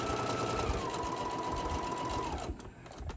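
A sewing machine runs at speed sewing a zipper pouch, a close, loud, continuous motor whine with fast needle chatter that stops abruptly near the end.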